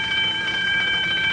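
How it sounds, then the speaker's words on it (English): An alarm sounds inside an elevator stopped between floors of a tall building, a steady, continuous high ringing tone that holds throughout at moderate loudness. "Sounds like an alarm of some sort."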